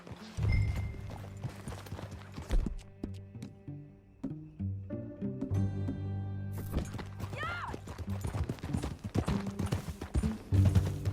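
Horse hooves clip-clop in an uneven rhythm over a Red Dead Redemption 2 game soundtrack, with occasional clicks and a brief whoosh, fairly close and moderately loud.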